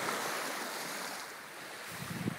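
Steady broadband wash of surf on the Lake Titicaca shore in Peru, continuous and fairly close, mixed with wind rumble on the microphone and a few low thumps near the end.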